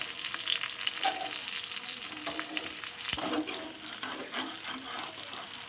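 A taro-leaf parcel of coconut and prawn is flipped in a pan on low gas, with a steady, close sizzle of frying and occasional scrapes and knocks from the turning.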